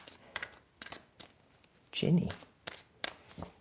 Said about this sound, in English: So let's throw a couple of cards on Ginny.